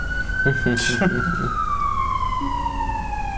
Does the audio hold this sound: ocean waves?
no